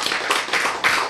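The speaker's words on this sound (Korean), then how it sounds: "박수!" Audience clapping at a Korean lecture, a short loud burst of many hands with broad, steady patter and slight swells, close and filling the space, no talk over it.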